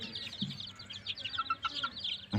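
A chicken in a narrow coop makes repeated soft clucks and short higher calls at close range, irregular and fairly quiet, ending in a louder burst of clucking.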